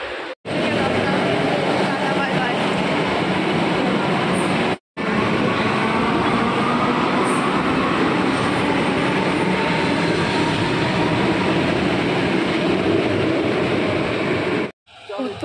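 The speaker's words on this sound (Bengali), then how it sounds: "মেট্রো, আসবে" A metro train rumbles and roars steadily for a long stretch as it arrives at a station, loud and close, with people talking underneath the noise.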